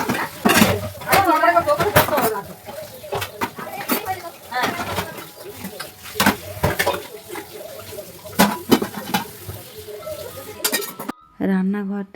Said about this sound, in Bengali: এখন এই যে কটা বাসন পড়ে আছে ওগুলো সব ধুয়ে নেবো